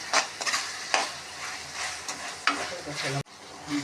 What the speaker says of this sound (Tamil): பிச்சு போட்ட பரோட்டாவெல்லாம் சேர்த்து நல்லா மிக்ஸ் பண்ணிக்கலாம் நல்லா கிளறி விட்டுக்கலாம்